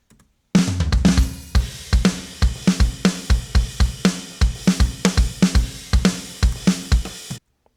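A pop punk drum bus in Logic with a gentle high shelf EQ boost plays a driving, steady beat of punchy kicks, snares and bright cymbals. It is played alone for several seconds, then stops abruptly.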